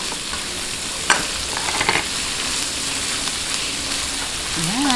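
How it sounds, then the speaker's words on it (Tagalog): Pork frying with garlic and onion in a pan for a Filipino corn and shrimp soup, a dense continuous sizzle with a few stirring scrapes, loud and close. "ating lang pong gisahin mabuti hanggang mag golden brown o light brown yung ating pork"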